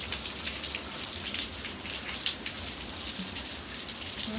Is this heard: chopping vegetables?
no